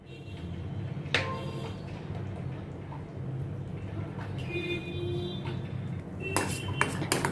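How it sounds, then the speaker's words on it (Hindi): A spoon clinks and scrapes against a pan while besan gatte sabzi is mixed, giving a few scattered metallic taps over a low steady background, louder near the end, with no talking. "अभी इन सभी को अच्छी तरह से मैं मिक्स करती हूँ।"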